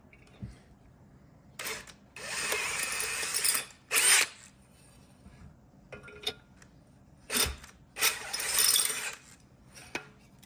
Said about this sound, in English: I'm just gonna run a little step drill, and I'm gonna open this up 1 step worth.